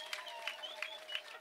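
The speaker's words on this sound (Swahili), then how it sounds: "naomba nyinyi wenyewe mjishangilie na kujipigia makofi kwa hilo" Audience applause at a university graduation ceremony for graduating students in Tabora, a steady, faint wash of many hands clapping at a distance with no voices standing out.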